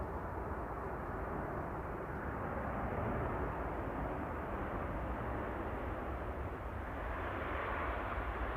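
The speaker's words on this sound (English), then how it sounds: "Emirates flight EK20 lining up behind the arriving Ryanair." An Emirates airliner taxiing and lining up on the runway at Manchester Airport, a steady, even jet engine roar from a moderate distance, unbroken and without voices.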